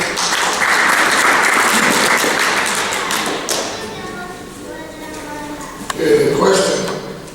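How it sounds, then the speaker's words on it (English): An audience claps for Frank Phillips at a 2012 White Shield candidates' platform event, the applause strong at first and thinning out, followed by a few thumps and voices talking. "let's give him a round of applause, Frank."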